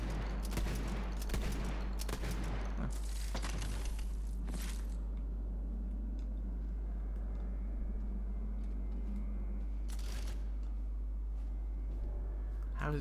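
Shotgun blasts in Tiny Tina's Wonderlands, a handful of loud, spaced booms in the first few seconds and another near the end, with a quieter game ambience and some speech between them.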